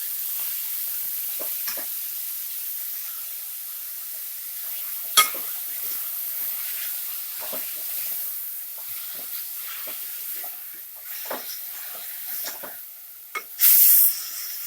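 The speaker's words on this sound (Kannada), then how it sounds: "ಪಾಲಕ್ಕು ಎಣ್ಣೆಯಲ್ಲಿ 2 ನಿಮಿಷ ಚೆನ್ನಾಗಿ ಫ್ರೈ ಮಾಡ್ಕೊಳ್ಳಿ" Chopped spinach (palak) frying in hot oil for Andhra-style palak pappu, a steady soft sizzle with scattered clicks and scrapes of stirring, fairly quiet and close, with no voices.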